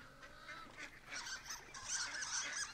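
Repeated honking duck calls come from the video game Firewatch, moderately loud and fairly close, growing denser toward the end over a quiet outdoor ambience, with no speech.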